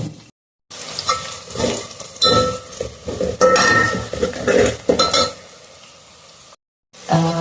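A lid is set on a pot of spicy chicken, with a few metallic clinks followed by a steady, moderate sizzle of cooking. No one talks.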